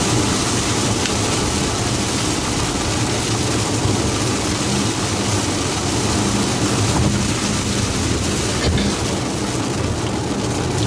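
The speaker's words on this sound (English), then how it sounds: "starting to rain real bad now" Heavy rain pours down in a dense, unbroken hiss that fills the whole stretch, loud and steady with no voices.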